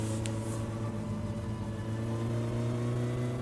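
Car engine in the driving game My Summer Car, a steady, close mid-pitched hum and whir that holds constant throughout, with no talking over it.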